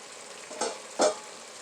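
Cabbage cooking down in a pot gives a low sizzle, broken by two short close bursts of stirring as the leaves are turned.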